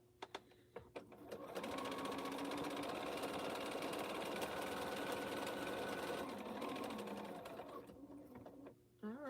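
A sewing machine stitches a quilt, running at a steady, close whirr for about seven seconds after a few soft clicks, then slowing and stopping with a final click.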